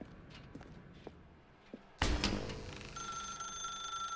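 A telephone in The Stanley Parable begins ringing partway through with a bright, steady electronic tone, after a quiet stretch of soft footsteps and a sudden louder thump, with no speech.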